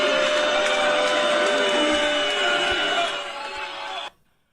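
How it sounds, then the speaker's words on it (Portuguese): Large crowd booing and jeering at the Gramado film festival, a dense, loud roar of many voices that holds steady for about four seconds, then fades and cuts off abruptly. "Vaias."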